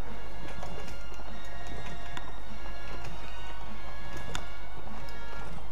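Horses gallop in the video game Mount and Blade Warband, a rapid run of hoof clip-clops with sharp irregular clacks over a constant low game drone.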